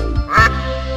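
A single loud duck quack, close and nasal, comes in a preschool phonics song over steady musical accompaniment.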